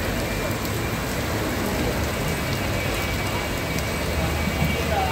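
Rain pouring onto a waterlogged Dhaka street, a dense unbroken hiss of drops on water that stays even and close for the whole stretch.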